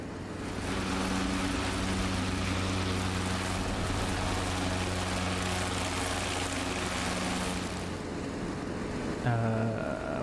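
A P-47 fighter plane's engine in a video game drones steadily and loudly for the whole stretch, a smooth continuous hum that shifts slightly in pitch near the end.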